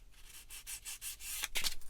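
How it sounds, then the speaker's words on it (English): Close, rhythmic rasping of sandpaper worked back and forth over the plastic vents of a Bandai Star Wars 1/144 AT-AT model kit, several quick strokes in a row with no talking. "the vents as well, I'll give them a little sand"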